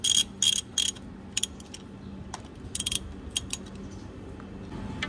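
A ratchet wrench tightens the sump bolts on a car's automatic transmission, quick clicking bursts early on followed by sparser metallic ticks over a quiet workshop hum, with no talk.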